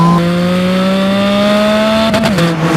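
A 2025 Porsche Spyder RS with a manual gearbox revving hard in second gear, a loud close-up engine note climbing steadily in pitch, then a quick drop at the top of the rev range.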